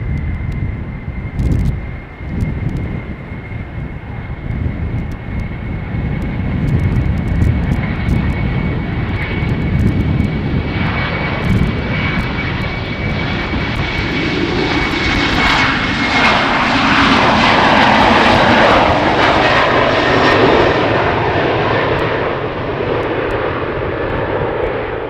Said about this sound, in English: Okay, the Embraer is rolling.